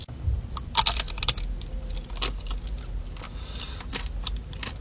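Someone eats a chocolate dessert with a crunchy base, light chocolate mousse and thick ganache, producing close, crisp crunching and chewing clicks in irregular bursts with no speech.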